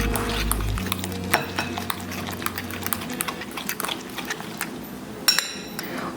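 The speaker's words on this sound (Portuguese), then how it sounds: "bater o ovo" Egg is beaten with cutlery in a bowl for a sugar-free apple and egg recipe: quick, irregular clinks and scrapes close by, over a low hum that fades early on.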